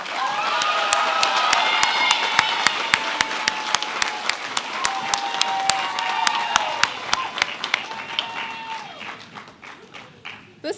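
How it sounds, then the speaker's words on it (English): Applause at a school arts and culture awards assembly, a sustained crowd of clapping with sharp nearby claps standing out, tapering slightly at the end while voices and cheers mix in. "Please give them a round of applause."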